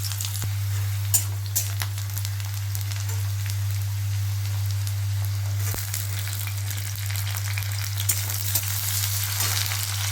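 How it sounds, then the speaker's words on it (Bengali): Chopped onion frying in hot mustard oil while cooking masoor dal: a steady, moderate sizzle and crackle throughout, with a constant low electrical hum beneath and no talking. "এবার ওই তেলে আমি পেঁয়াজ কুচো করে রেখেছিলাম দিয়ে দেবো"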